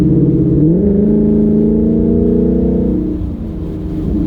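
A 2019 Mustang GT with an AWE Touring cat-back exhaust revs once, its engine note climbing and holding a steady deep drone before dropping back to a lower rumble, loud and close, with no talking.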